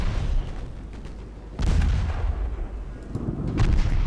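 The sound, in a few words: torpedo launch from quintuple launchers in naval video game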